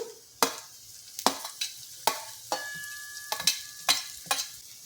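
Ginger, garlic and chilies sauté with green onion in a hot pan, each stir sending up a sharp scraping sizzle that recurs roughly once a second over a low steady frying hiss.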